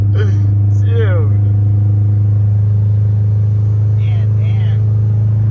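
A turbocharged 1003 hp Subaru WRX STI engine runs loud and steady with a constant low drone, with people talking over it.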